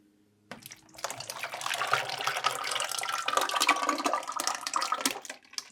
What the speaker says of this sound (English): Start off pouring my base in here.